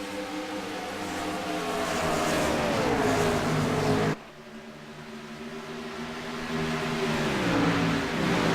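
Several NASCAR Gen 6 stock car engines roar in a sim racing game, a dense pack droning loudly with shifting pitches, dipping briefly midway as cars pass before swelling again, with no talk.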